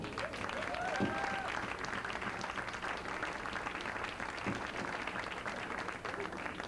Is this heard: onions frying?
no